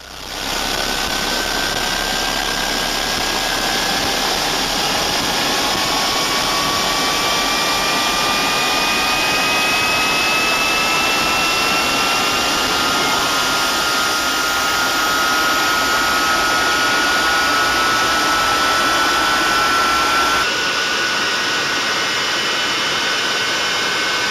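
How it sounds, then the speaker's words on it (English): Jet engine running up to speed, a loud, steady roar with a high whine rising gradually in pitch as it spools up, sustained for the whole stretch. "This got this up to speed, and now this engine is running."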